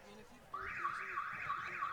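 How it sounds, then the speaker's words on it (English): A car alarm at a ballpark, set off when a baseball struck a parked car, starts abruptly and wails loudly in a steady rising-and-falling siren cycle that repeats with no voices over it. "that one hit a car, so car alarm quickly on"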